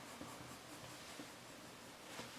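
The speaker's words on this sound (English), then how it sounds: "I'm just adding a little brown pencil rather than black here." A brown pencil sketching a leather boot on paper, faint scratchy strokes in short repeated bursts, close and very quiet, no talk.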